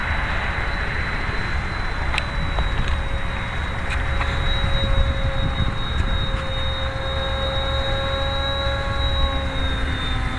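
A triangle-fuselage RC model airplane on its maiden flight, its motor giving a steady high whine with pitch shifts as it passes overhead, continuous over broadband outdoor wind and noise.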